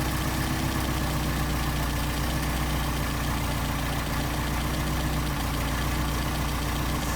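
An engine fitted with a Solex carburetor idling steadily around 750 RPM, a constant close low rumble with an even throb and no change in speed throughout.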